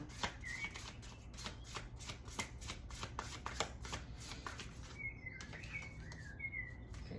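Tarot cards are shuffled by hand in quick, crisp riffling bursts, a dense run of papery flutters repeating close up, with a few faint bird chirps in the background.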